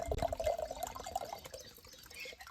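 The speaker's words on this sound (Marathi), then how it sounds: "पाण्याचा तुम्ही फक्त आता आवाज ऐका" Water running and dripping in a village setting, a light trickling flow with bright splashy drips, strongest early and thinning toward the end, with no voices.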